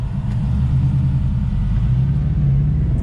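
A tuned 2020 BMW M550i drives along with a steady, deep engine rumble and low drone that holds evenly throughout, heard close from inside the car with no talking.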